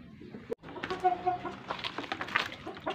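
Chickens clucking close by, a few short calls rising over a busy farmyard background with scattered bird noises.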